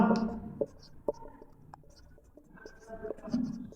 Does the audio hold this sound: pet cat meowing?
no